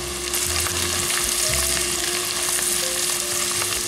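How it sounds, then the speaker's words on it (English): Celery and garlic fry in a pot for chicken pot pie, with a loud, continuous sizzle close up and a faint steady hum underneath. Nobody speaks. "we're gonna go ahead and add the celery and the garlic. We'll let this keep cooking for just a minute or two."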